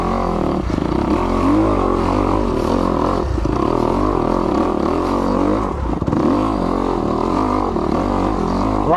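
A 2021 Kawasaki KX250X dirt bike engine runs continuously on loose, technical rocky terrain, close and loud, its pitch rising and dipping with constant clutch modulation, and some clattering and scraping of rocks underneath.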